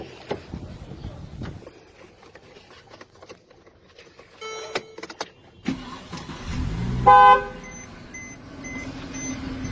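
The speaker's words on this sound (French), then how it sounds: "maintenant, on va klaxonner." A car horn sounds amid engine and road noise, with scattered beeps and a longer honk near the end.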